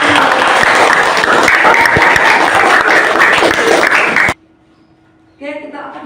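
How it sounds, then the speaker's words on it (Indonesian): A classroom audience at an Indonesian teacher training session breaks into sustained, dense applause for about four seconds, then it cuts off and a voice begins speaking. "Silakan tepuk tangan aplaus buat yang bertanya."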